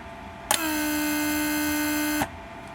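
A steady electric vacuum pump hum from a 1994 Mercedes S420 door lock system on a bench test starts abruptly, drones evenly for a couple of seconds, then cuts off, fairly close and alone.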